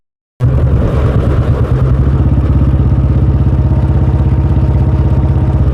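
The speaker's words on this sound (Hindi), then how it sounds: "इधर डिग्गी पिटी जा रही है ट्रैक्टरों से पानी के स्टॉक के लिए" Tractors digging a village water storage pit, a loud, close diesel engine that starts abruptly and settles into a steady, rapid thumping chug that keeps running.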